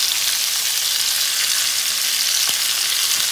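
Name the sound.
onions frying in hot oil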